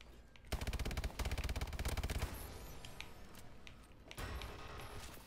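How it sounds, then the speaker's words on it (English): Rapid, loud automatic gunfire from a weapon fired from the hip in Call of Duty, in several dense bursts of closely spaced shots followed by quieter game sounds. "I love hip firing with this gun."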